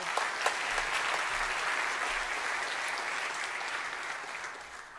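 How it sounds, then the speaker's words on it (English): Audience applause for a conference speaker at a talk on ORMs and PostgreSQL databases: steady, dense clapping from a sizeable crowd, sustained at even loudness for about five seconds and fading slightly at the end. "A big round of applause for her."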